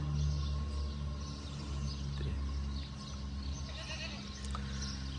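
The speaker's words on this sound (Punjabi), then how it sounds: "ਉਧਰ ਬੱਕਰੇ ਆ" Goats bleat intermittently in a shed on a goat farm in Spain, over a steady low hum and background farm noise, the calls moderately distant and mixed into a busy ambience.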